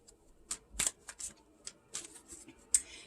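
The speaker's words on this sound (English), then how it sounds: "let me shuffle these, and then I will shuffle them on camera" A deck of tarot cards is shuffled by hand in quick, soft riffles and flicks close up, with brief pauses between bursts and no talking.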